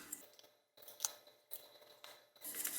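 Scissors snip through paper or card while making an owl-shaped scissor jacket with a pocket, a few quiet, close cuts in separate bursts with short pauses between.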